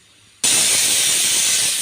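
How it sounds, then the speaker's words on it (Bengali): Pressure cooker with meat inside lets out a sudden loud whistle of steam after a quiet moment, then a sustained, bright hiss that continues to the end. "মাংসটা আমি প্রেশার কুকারে যে সিটি বসা দিয়েছি"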